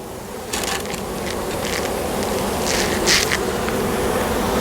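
Honeybees from a freshly installed package hive hum and buzz in a thick, continuous drone close by, swelling slightly with passing individual bees, outdoors with no talk.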